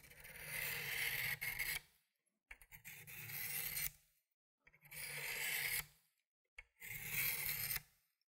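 A knife blade is drawn along a sharpening stone at a 20 degree angle in four long rasping strokes, each about a second and a half, separated by short silences, close and fairly quiet.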